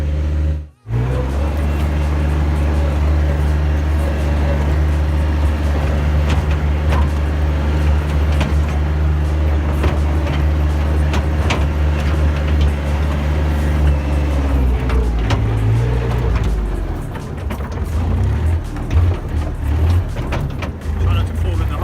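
A 3-tonne dumper truck crossing rough ground with its diesel engine droning loud and close, the load rattling and bumping over jolts, while someone talks over it.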